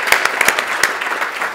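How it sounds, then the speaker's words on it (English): A brief burst of crowd applause at a keynote, honouring a children's hospital team, with distinct claps standing out from the steady clatter of many hands, moderately loud and without talk. "a big round of applause to Matt and the team"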